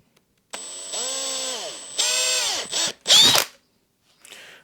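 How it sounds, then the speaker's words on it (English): A power drill with hammer action off bores a hole for a fender on a Mondraker Prime eMTB, with several close, loud whirring bursts that rise and fall in pitch, separated by brief pauses. "I'm just going to really carefully, without the hammer action on the drill, just drill through this."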